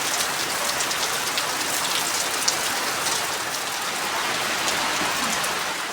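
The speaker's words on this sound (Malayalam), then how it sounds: "പിന്നെ പുറത്ത് വന്ന് നോക്കിയപ്പോൾ നല്ല മഴ." Heavy rain pours steadily onto roof sheets, tiles and plants, a dense, even hiss with scattered sharper drops tapping nearby, loud and unbroken throughout with no voices.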